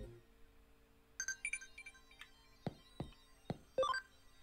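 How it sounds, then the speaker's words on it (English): Short chiming text-message notification tones from the Digimon Cyber Sleuth video game, a few bright beeps and blips over quiet background game music, fairly soft. "Why do you guys keep texting me?"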